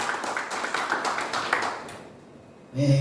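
A church congregation claps for Jesus during a sermon, with dense rapid hand claps over the first two seconds that fade to near silence, then a brief low sound at the end.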